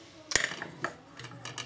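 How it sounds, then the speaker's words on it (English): A metal pot lid lifted off simmering spaghetti sauce, one sharp clink followed by lighter taps and a faint low bubbling underneath. "just take the lid off."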